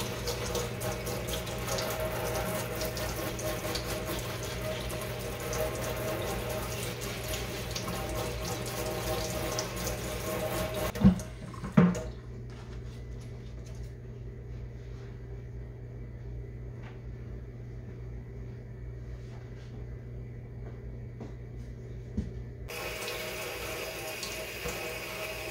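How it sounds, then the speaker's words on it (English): Kitchen sink tap runs steadily while two houseplants are washed off beneath it, a continuous close hiss of water that cuts out abruptly midway, leaving a quieter stretch with a couple of small knocks before the flow resumes. "take both the plants into my kitchen so that I can wash them off in the sink"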